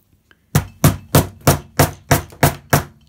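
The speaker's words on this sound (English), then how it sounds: "You hammer it into place and you've got a working leg." A hammer drives wire into a puppet leg with eight loud, evenly spaced blows, close and alone after two faint taps.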